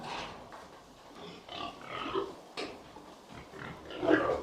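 Pigs grunting and oinking inside a barn with sows, several irregular snorting grunts at moderate distance, rising into a louder squealing grunt near the end.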